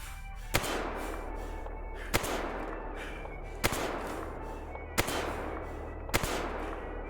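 Five single gunshots spaced about a second or more apart in S.T.A.L.K.E.R.: Anomaly, each a sharp crack over a constant low ambient rumble, fired at a megaphone, with no talk.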